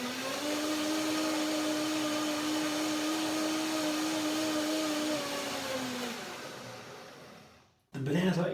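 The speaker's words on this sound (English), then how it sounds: "Shock blending here." A blender whirs loudly and steadily as it purees bananas into a creamy dressing, its motor tone sagging slightly before winding down and cutting off, followed by a brief clatter.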